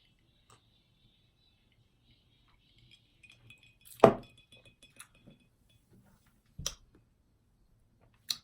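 Glasses of wine clink together in a toast, one bright sharp chime standing out in a quiet room, followed by a few softer clicks and small knocks.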